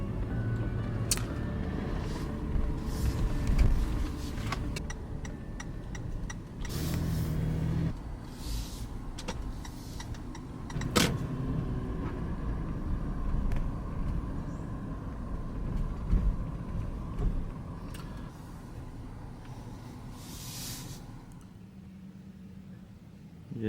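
Road traffic flows past on a busy street, a continuous rumble of car and bus engines with occasional air-brake hisses and passing vehicles, moderately near.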